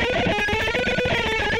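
Electric guitar picked very fast with the picking hand outrunning the fretting hand: a dense, continuous, somewhat messy stream of notes, loud and close, with no talking.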